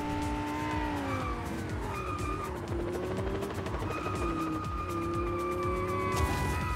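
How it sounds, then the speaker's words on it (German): Cars in Just Cause 4 roar and skid as another vehicle rams hard into the player's car, with a busy mix of engine tones, tire squeal and clattering impacts running continuously up close. "fährt er mir volle Kanne in die Karre rein"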